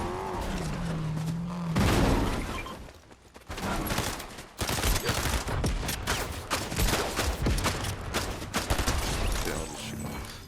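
Fortnite video game gunfire from another player, with bursts of rapid shots and bangs over busy game noise and engine-like rumbles, loud and dense across the whole stretch with brief lulls.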